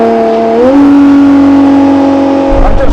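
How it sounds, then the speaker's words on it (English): A Ferrari V12 hypercar engine revs loud and close, its tone climbing smoothly and then holding a high, sustained howl before easing at the end. "I'm just playing the engine like a musical instrument"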